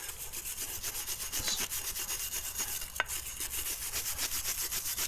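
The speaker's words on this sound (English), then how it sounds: "now I'm gonna go ahead and clean out the caliper with this wire brush" Rapid, rhythmic scratching as a wire brush scrubs the rear brake caliper of an Acura RL, close and continuous, with one sharp metallic click partway through and no talking.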